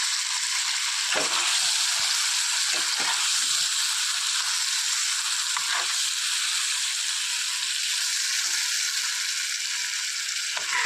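Fish pieces for a Kerala fish roast frying in a pan, a steady close hiss of sizzling oil throughout with a few soft clicks and scrapes.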